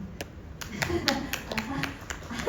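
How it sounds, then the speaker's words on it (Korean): An audience at a live music event claps in a short run of sharp, distinct hand claps over a low murmur of voices. "박수 치셔도 됩니다"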